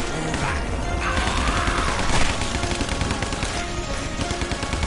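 Dense, continuous gunfire in a zombie video game, rapid overlapping shots and crashes filling the mix loudly and without pause.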